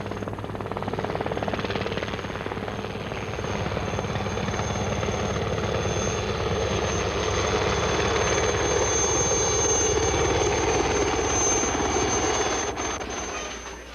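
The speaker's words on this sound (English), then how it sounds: "Only way to go by helicopter." A helicopter's steady, loud engine drone with a whirring rotor quality persists for the whole stretch over a volcano area in El Salvador, close and continuous, easing off slightly at the end.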